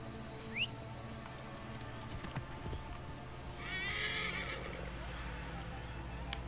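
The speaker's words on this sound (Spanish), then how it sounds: "¿Podemos llamar al caballo y subirnos en él?" A horse in the Assassin's Creed Origins video game neighs after being called, a brief whinny followed by clip-clopping hooves over a steady low game background, with faint voices nearby.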